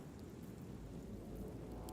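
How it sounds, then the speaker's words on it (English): Rain summoned by a spell in the fantasy role-playing game Baldur's Gate 3, a steady, dense downpour with a low rumbling undertone, filling the whole two seconds evenly with no voices. "Call forth rain or destroy a water-based surface."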